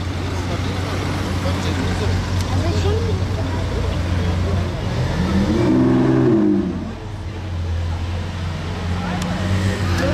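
Lamborghini Aventador SVJ V12 in slow uphill traffic, a brief rising rev swelling near the middle over a steady low road and traffic rumble, with some voice underneath.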